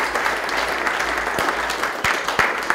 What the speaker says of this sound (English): so we give her a round of applause.